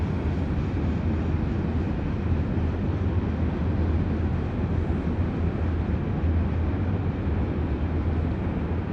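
A loud CSX westbound coal train passes close by, its deep, steady rumble and rolling rail noise holding continuous and even for the whole stretch, with no voices over it.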